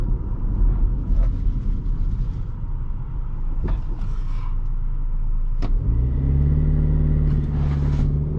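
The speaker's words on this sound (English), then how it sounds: "Let's see if we get a quick launch in here." A 2024 Audi Q3 45 TFSI Premium Plus launches from rest: a steady low engine rumble, then a loud rising drone as the revs climb, heard up close from inside the cabin with no talking.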